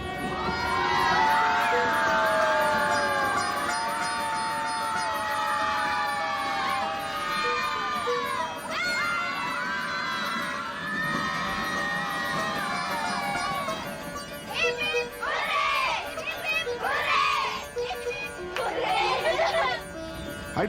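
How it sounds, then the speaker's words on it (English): Uniformed schoolchildren on a hill train in India cheer and shout together as it passes through a tunnel, a loud sustained crowd of young voices rising and falling in waves, with bursts of louder cheering near the end. "The school kids in their uniforms cheer in unison every time we pass through one of the tunnels."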